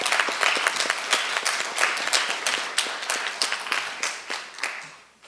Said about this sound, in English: Let's welcome Alexander with a big round of applause.